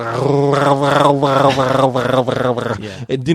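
A voice imitates a dog growling at someone approaching a couch, a close, loud run of rhythmic guttural snarls pulsing for about three seconds before trailing off.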